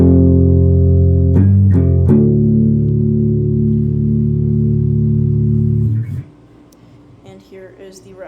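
Clean electric guitar tone: a loud, sustained chord rings steadily, is briefly re-struck, and then fades into quieter fretboard and string noise.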